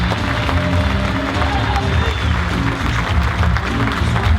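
An audience applauds and cheers for a performer named Dustin Black in a loud, dense, steady burst of crowd noise throughout, with voices mixed in.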